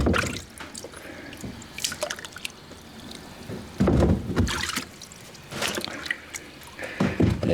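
Wet fire bricks in a pizza-oven door arch fizz and crackle as they soak up water, a close, uneven hiss with scattered drips and several louder bursts.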